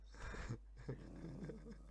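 A dog in Minecraft 1.17.1 growls and attacks, a low, close rumbling growl in short bursts over a steady low hum.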